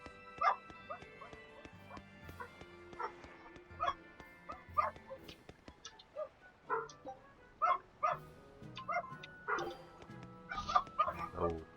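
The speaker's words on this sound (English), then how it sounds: "So many dogs barking." Many dogs bark and yip repeatedly in an irregular chorus over game music in Tales of Berseria, some near and some farther off, with a soft whimper here and there.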